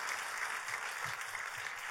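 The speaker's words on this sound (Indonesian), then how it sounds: "Tepuk tangannya pula yang paling meriah buat Tuhan kita." A church congregation applauding for God during a worship service, a dense steady wash of clapping from many hands, filling the space evenly without pause.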